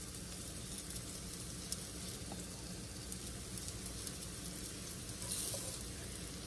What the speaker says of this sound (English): You can hear it sizzling now.